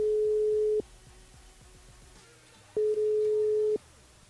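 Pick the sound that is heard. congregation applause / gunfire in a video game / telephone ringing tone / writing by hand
telephone ringing tone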